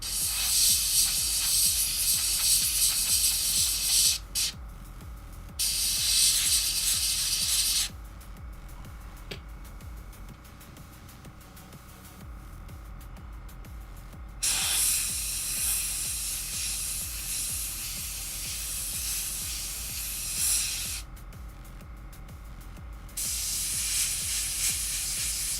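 Bursts of aerosol spray paint hiss onto a 1/16 scale Puma model, several sustained sprays of a few seconds each separated by quieter pauses with faint handling noise.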